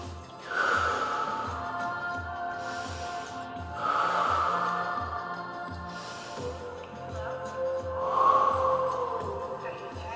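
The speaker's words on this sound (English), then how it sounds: "Pull all that skin up and breathe through the mouth. Inhale through the nose." Slow, deliberate breaths repeat in cycles, an audible exhale through the mouth followed by a sniffing inhale through the nose, close to the microphone over a faint low rhythmic background.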